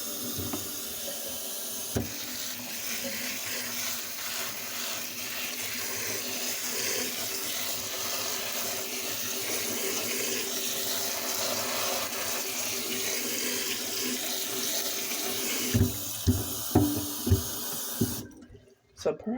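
Water gushes steadily from a tap for rinsing, a loud continuous splashing hiss that stops near the end, followed by a few handling knocks and a brief silence.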